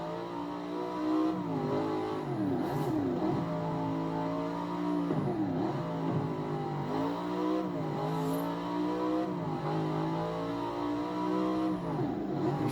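The General Lee car's engine revs hard and continuously, pitch climbing and dropping through repeated gear changes, loud and close with no talking.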